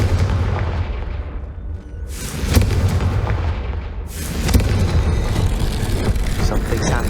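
Confringo blasting spell in Hogwarts Legacy, two loud explosive bursts a couple of seconds apart, each a sharp crack that spreads into a long fading rumble.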